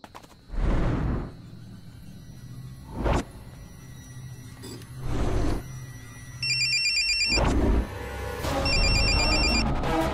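A telephone rings in repeated short electronic trills, going unanswered, between loud whooshing bursts of noise that sweep past.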